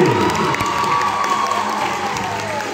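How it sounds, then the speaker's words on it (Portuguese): A circus audience applauds and cheers for performer Felipe, a loud burst of clapping and shouting voices that carries on steadily. "E com certeza merece um aplauso Felipe"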